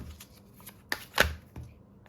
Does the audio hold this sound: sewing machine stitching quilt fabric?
no